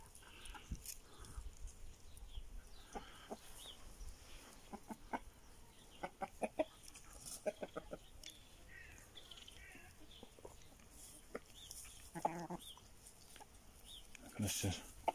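Chickens cluck softly in an outdoor setting, scattered calls over faint background noise, with occasional other sounds around them.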